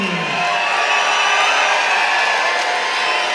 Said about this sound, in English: Hear that crowd for the hometown boy